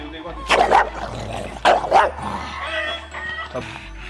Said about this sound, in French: test d'évaluation numéro 1 sur Myron, un chien de 5 ans, bulldog anglais